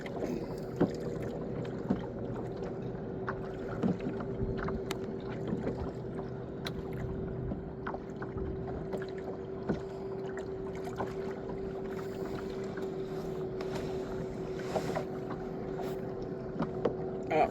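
Boat drifting broadside to the wind on open water: a steady low hull hum and rushing wind, with occasional faint knocks and water sounds and no talking.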